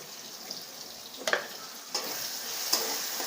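Ground spices such as coriander, cumin, garam masala and turmeric fry in hot oil for a brinjal curry, a soft steady sizzle broken by a few scraping stirs of a spoon against the pan.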